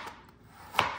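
A knife chops a carrot into large slices on a cutting board, giving two crisp, close chops spaced under a second apart with quiet between them.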